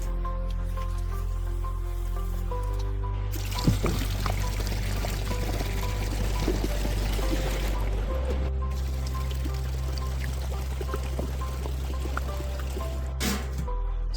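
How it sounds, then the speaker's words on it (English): Alcohol is poured into an ultrasonic cleaner in a steady, close liquid pour lasting several seconds, with a brief thud near the start and low machine hum underneath, no talk. "First, we're gonna fill it with alcohol."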